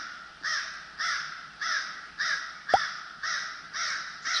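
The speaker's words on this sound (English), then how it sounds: "These crows are pestering the fire or something." Crows caw repeatedly near a campfire in Minnesota, a steady series of harsh calls spaced about half a second apart, fairly close, with one brief sharp snap partway through.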